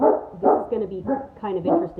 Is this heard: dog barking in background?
yes